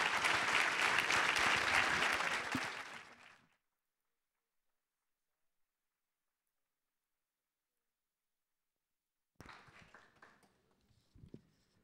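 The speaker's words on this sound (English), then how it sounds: "Please give a round of applause to our panel." Audience applause at an early education summit, loud and dense at first, then quickly fading into silence, followed later by a few faint scattered sounds.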